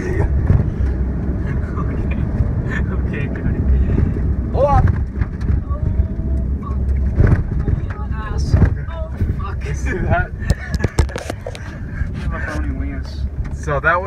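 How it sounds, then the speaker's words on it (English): A rented U-Haul GMC truck roars along at about 80 mph, with a steady broadband rush of engine, tire and wind noise throughout and voices shouting over it. "So that was 80 miles per hour in a U-Haul truck"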